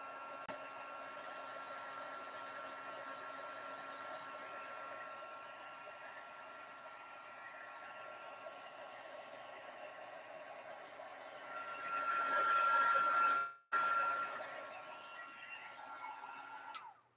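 A heat gun blows hot air in a steady, continuous hiss while crafting stocking stuffers, swelling louder near the end before cutting off abruptly and briefly resuming.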